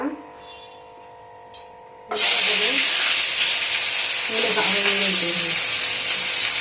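Whole spices for a mutton curry hit hot oil and burst into a loud, sustained sizzle after a quiet start, with a spoon stirring through the crackling hiss.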